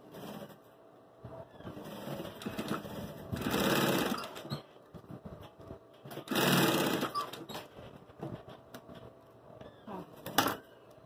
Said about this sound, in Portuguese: Vou costurar aqui, ó, os dois pedacinhos.